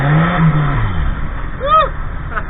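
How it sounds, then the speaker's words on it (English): A cheap $300 drift car revs hard on wet streets during a brake-boost drift, its engine note climbing and falling in loud, close surges over a steady rumble. "See if we can do a little brake boost action here."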